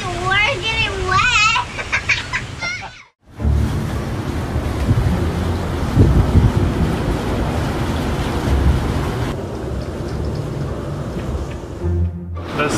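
Strong hurricane wind gusts rush across a marina with sailboats, a loud continuous roar of wind buffeting the microphone, with brief voices at the start and a short lull before the gusting resumes.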